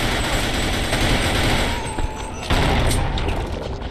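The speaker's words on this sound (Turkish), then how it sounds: "Oraya gitme bomba atıyorum." Grenade blast in the Sven Co-op shooter, a loud explosive boom at mid-clip over continuous dense gunfire and game noise, with a second heavy burst shortly after.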